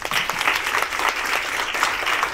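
An audience bursts into loud, sustained applause at a food product competition event, dense clapping from many hands filling the space evenly throughout without pause.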